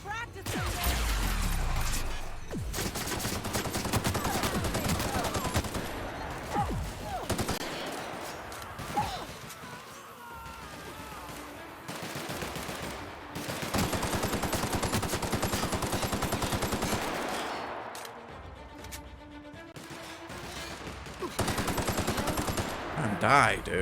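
Rapid bursts of gunfire and energy cannon blasts in The Outer Worlds combat, loud and repeated across the whole stretch with brief lulls between volleys, while a player talks over the fight.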